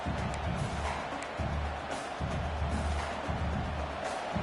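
Stadium crowd noise in a college football video game, a broad continuous roar of cheering fans with low rumbling swells, steady and distant-sounding, without talk.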